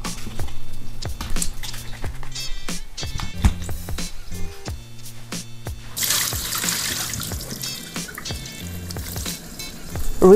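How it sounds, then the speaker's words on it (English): Mushrooms are rinsed under a running kitchen tap, with close trickling, splashing water and small drips, the stream rushing louder partway through. "Rinse them under running water."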